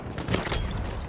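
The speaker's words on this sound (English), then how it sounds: "Oh, I got shot in the head." A gunshot in the Battlefield 1 video game, set in a ballroom sniping match: a burst of loud, noisy crackling shots close by, filling the short moment with dense gunfire texture.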